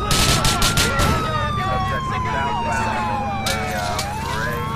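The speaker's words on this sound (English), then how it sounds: "Finally, the first police car." Police car siren in a video game: a loud wailing tone that sweeps up and down over dense traffic and engine noise, with a few sharp impacts near the start.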